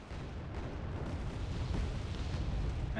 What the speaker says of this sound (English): bombs coming in again.